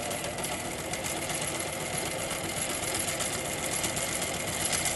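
A sewing machine runs steadily as it stitches around an inside curve, a continuous close whirring and rapid needle clatter with no pauses or talk.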